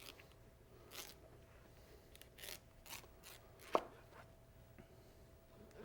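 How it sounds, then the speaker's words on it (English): A knife cuts a melon with its rind still on into thin strips, a handful of soft, separate chopping strokes on a board with one sharper crunch midway, close and quiet. "if you're doing it with the rind still on, then all you're going to need to do is just cut thin little strips"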